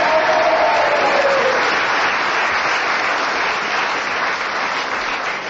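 A studio audience at a panel game applauds and cheers steadily throughout, a dense, loud wash of clapping that fades slightly toward the end, with a brief voice-like tone near the start.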